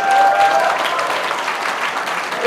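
Audience applause fills the room at a charity gala for kids, a sustained wash of clapping from a large crowd, steady and fairly loud throughout with no voices on top.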